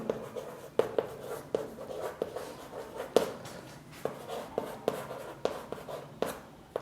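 Chalk or marker strokes on a classroom board come as a series of sharp taps and short scratchy strokes in an irregular rhythm, close and moderately loud.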